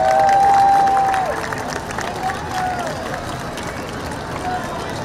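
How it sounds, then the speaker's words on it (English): Spectators at the downtown Houston rodeo parade applaud and cheer, a loud burst of crowd noise that eases into steady applause, while a whistle or tonal call sounds briefly over it. "Give them a round of applause, Houston."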